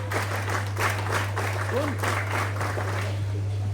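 NCC cadets applauding at a prize distribution ceremony, a steady wash of clapping from a crowd under a constant electrical hum, with a voice speaking over it.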